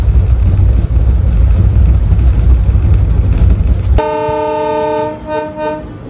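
A diesel train runs past outside a railway station retiring room, a loud rumbling roar for about four seconds, then cuts to a sustained, fluctuating multi-tone horn.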